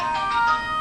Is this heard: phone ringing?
yes